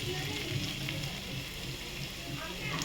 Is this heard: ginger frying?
yes